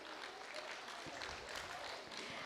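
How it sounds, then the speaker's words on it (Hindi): An audience at a spiritual talk claps together in a brief, dense burst that sounds soft and somewhat distant. "जोरदार तालियां एक बार बजाएंगे।"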